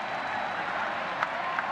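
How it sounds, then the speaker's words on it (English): A broad crowd roar at Fenway Park during a Minnesota at Boston baseball game, a steady wash of cheering with a couple of faint claps or shouts poking through. "The cheer going up here at Fenway Park"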